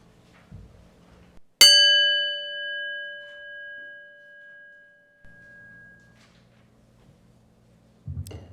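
A single bell strikes to open a Sunday church service, one clear ring that hangs and fades over several seconds, set between quiet soft rustling in the hall.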